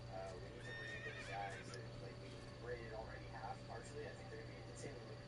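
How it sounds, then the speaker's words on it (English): A horse in a video game, Metal Gear Solid 3, whinnies clearly, with faint hoof clip-clops and a steady background hum, while a person talks over it. "You just heard the neigh, right?"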